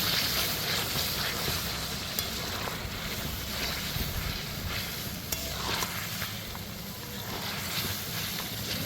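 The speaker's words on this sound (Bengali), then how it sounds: "এবার আস্তে আস্তে নাড়া দেবেন" Whisked yogurt being stirred slowly into chicken in a pan for doi chicken, a steady wet sizzle and soft scraping churn running throughout at moderate level, with no talk.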